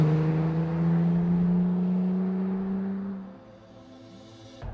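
A Honda car on the Estoril race circuit, its engine droning in a steady high tone that slowly falls in pitch and fades as it pulls away, loud at first, then quieter with a faint rise at the end.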